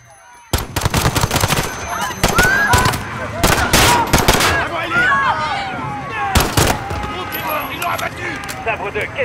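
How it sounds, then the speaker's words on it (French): Gunfire in the video game Call of Duty Modern Warfare, a loud burst of sharp shots and rapid automatic fire cracking repeatedly over several seconds, with shouted voices and radio chatter mixed in beneath the shooting. "Des coups de feu, plusieurs agents touchés."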